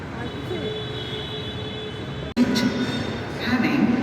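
A train rumbles steadily at Jaipur railway station beside the metro station, then a sudden cut brings a louder, rougher rush of rail noise.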